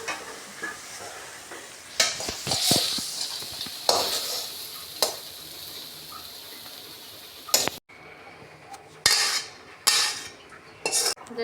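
Fried spicy pumpkin being lifted out of a kadai with a metal utensil: sharp scraping clinks and clatters come in irregular bursts over a faint, steady sizzle, with a few quiet gaps between strokes.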